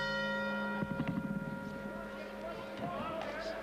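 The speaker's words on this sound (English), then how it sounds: "The bell just sounds and round two is underway, and Alex," A boxing ring bell rings to start round two with a sustained metallic tone that slowly fades, while crowd noise and a commentator's voice come in beneath it.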